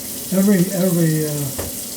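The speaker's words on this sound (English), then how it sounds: "This thing's still fucking leaking. It might still be leaking. Might need a new faucet." A faucet that may need replacing runs with a steady, close hiss of flowing water. A brief wavering tonal whine rises over it partway through.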